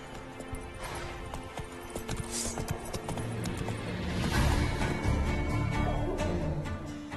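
Horse hooves clip-clop in The Witcher 3: Wild Hunt, a steady run of hoofbeats against game ambience and music that grows slightly louder midway, with no talking.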